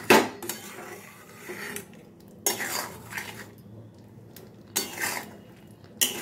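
A spoon stirs and mixes potol posto, pointed gourd in a mustard and poppy seed paste, in a pan, making repeated clinking scrapes against the metal in irregular bursts with short pauses between them.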